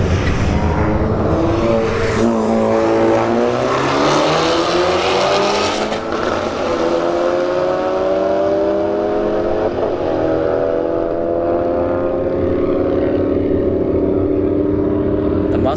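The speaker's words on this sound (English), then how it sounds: "Mustang takes it 114 miles an hour." A Ford Mustang 5.0 and a Honda Civic Type R launch in a drag strip race, their engines roaring and climbing through repeated upshifts before fading as they run away into the distance.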